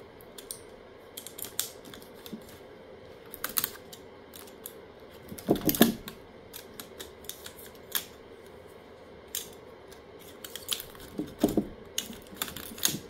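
Snipping and cutting the welded connections of an A123 26650 LiFePO4 cell battery pack, heard as scattered sharp clicks and a few louder crunching cuts spread through the recording, no one talking.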